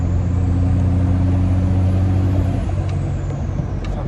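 Steady drone of a turbocharged diesel in a lifted Ram 2500 Mega Cab, heard from inside the cab, constant and fairly loud, with a faint high whistle above the engine rumble.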